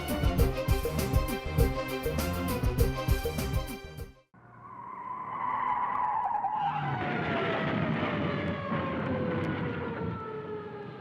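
A car skids with a long, loud tire squeal that slides downward in pitch after a burst of music cuts out, and the squeal holds steady to the end with no clear impact.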